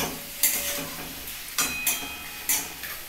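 Pieces of fish going into a hot pan for a home-style Bengali fish curry cooked without spices. A soft, steady sizzle runs underneath, broken by a few sharp clinks and scrapes of utensils against the pan.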